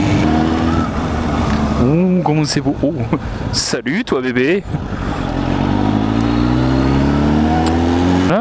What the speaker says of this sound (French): Là, la moto fait du bruit, en plus ça résonne et je suis à 50.